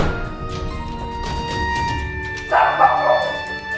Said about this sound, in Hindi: उसे देखकर उनका कुत्ता भी डर जाता है और वो जोर जोर से भौंकने लगता है